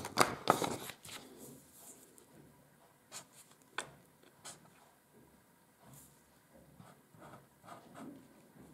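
A thin-tipped marker scratches and squeaks across paper laid over an extra sheet while a graffiti shadow is drawn, starting with a few louder strokes and then settling into faint, scattered short strokes.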